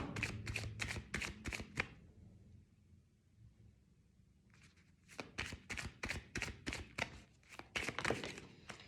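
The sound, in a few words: shuffling chakra cards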